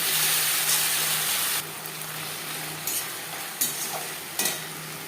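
Chicken with onion and masala paste cooking in a pan for gravy chilli chicken: a loud close sizzle that drops partway, then a quieter steady fry broken by a few spatula scrapes.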